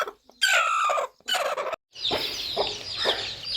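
A village hen gives a few loud, close clucking and squawking calls in short bursts, separated by brief pauses and followed by softer cackles.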